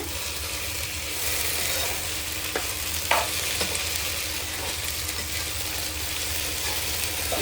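Okra curry frying in a pan, a steady close sizzle with a few soft scrapes and clinks of a spoon stirring through it.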